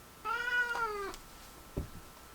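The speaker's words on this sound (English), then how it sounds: "my cat is literally like wild today" A house cat gives one drawn-out, rising-then-falling meow nearby in a quiet room, followed by a brief soft thump.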